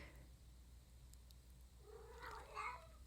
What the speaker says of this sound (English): Kitty's meowing again.